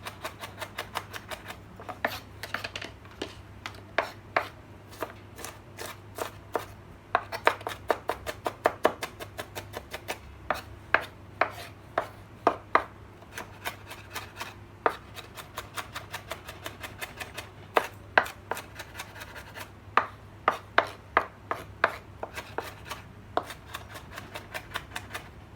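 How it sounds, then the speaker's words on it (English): A knife hand-chops food on a cutting board for potato salad, a long run of sharp, rapid taps in uneven bursts with brief pauses, close and fairly quiet over a steady low background hum. "I think I'd rather hand chop this"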